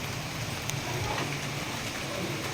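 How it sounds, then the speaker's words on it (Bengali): Rain falls steadily with a dense, even hiss of drops on surfaces, continuous and fairly loud from start to finish with no distinct breaks. "দেখো বৃষ্টি পড়ছে"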